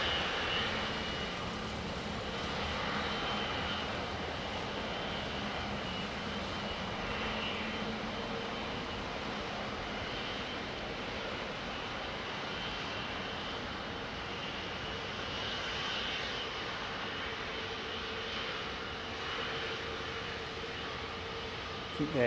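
A Boeing Dreamliner jet aircraft on Heathrow runway 09R gives a continuous, broad engine roar that holds steady throughout, with people talking faintly over it.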